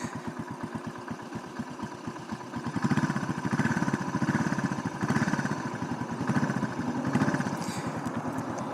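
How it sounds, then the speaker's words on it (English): A 2007 Suzuki S40 Boulevard motorcycle engine idles low and steadily nearby with a rhythmic chugging putter that swells slightly in loudness a few times. "My bike's idling low."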